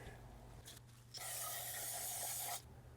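A single continuous spray of brake cleaner aerosol into the intake of a BMW 535i E60 hisses for about a second and a half, close and steady, over a low hum.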